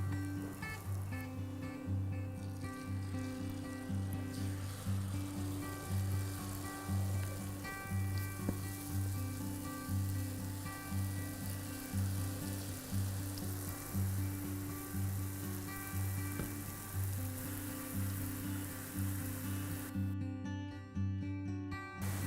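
Jalebi batter sizzles and bubbles in hot oil in a kadhai over a medium-high flame, a dense, steady frying hiss with a low hum beneath it that continues throughout and cuts off near the end.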